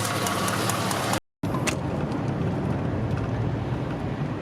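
A car engine idling as it warms up after the 4L60E automatic transmission was refilled with fluid, a steady close mid-pitched hum broken by a brief dropout near the start, no talking.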